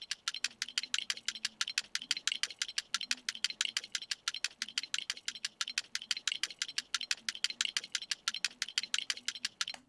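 Two percussion loops in a hip-hop beat, automated to pan from left to right, make a fast, steady, ticking rattle of crisp, light hits that repeats evenly throughout at a moderate level.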